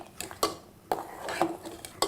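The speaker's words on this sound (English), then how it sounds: "Keep stirring this all the time until the" A spoon scrapes and clinks against a metal pot while stirring rice in milk for South Indian pongal, giving several sharp, uneven knocks and scrapes up close with quiet gaps between them.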